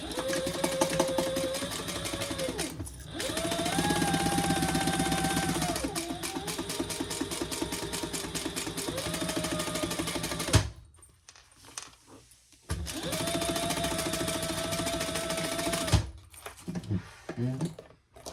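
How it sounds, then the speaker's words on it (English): A sewing machine stitches a seam an eighth of an inch in from the open edge of a Jasper Sling bag, its steady motor whir running in long stretches broken by a few short stops. "And now we're going to just stitch around this open edge here."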